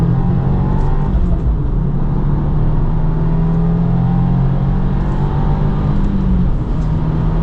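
A 2025 Subaru WRX tS engine with a six-speed automatic pulls hard around the Road America track, producing a loud, sustained engine drone whose pitch swells and falls as the revs change, heard from inside the car with no talking.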